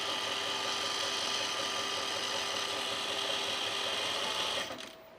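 A sewing machine stitches a sunblock top with nylon-like thread, its steady, close mechanical whir running continuously before cutting off abruptly near the end.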